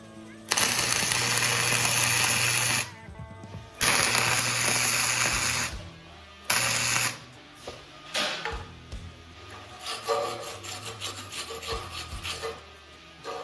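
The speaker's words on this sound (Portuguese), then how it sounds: "Pontear primeiro, né? Fazer um L aqui, dar os dois primeiros pontos, depois a gente dá o cordão." A MIG/MMA multiprocess inverter welder runs at 70% on thick steel sheet, setting tack welds in an L. Loud, close crackling buzzes come in bursts of two to three seconds, followed by quieter, irregular rasping hiss.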